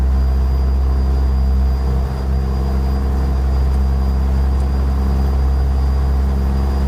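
Peterbilt 362 semi truck in American Truck Simulator idling with a steady, deep, loud diesel rumble that holds constant throughout, with no voices over it.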